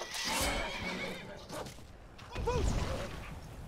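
A horse whinnies twice, loud and close, over a steady bed of game music and ambient noise in Skyrim.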